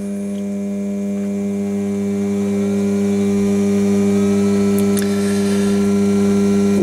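A treadmill's DC motor, driven by a DLM control unit, turns slowly at about 310 RPM and gives off a steady, even electric hum with a faint buzz. The hum is continuous and alone throughout.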